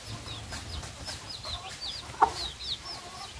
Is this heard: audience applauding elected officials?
no